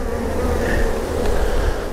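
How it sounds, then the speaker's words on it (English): A dense, steady buzzing of many honeybees close by at a hive, a continuous droning hum with no pauses. "Yeah, plenty of bees in there."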